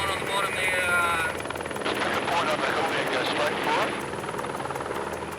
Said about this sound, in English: as he takes a pounding from the helicopter rotor wash